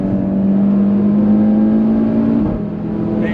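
A Porsche Cayman GT3 overtaking on a race track, a loud, steady high-revving engine whine holding one pitch for several seconds before easing off briefly, with no talk.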